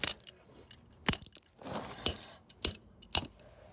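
Hard plastic of a fidget cube is struck repeatedly, giving about six sharp, close cracking knocks at uneven intervals with brief rattling between them.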